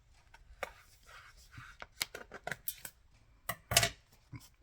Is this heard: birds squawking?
no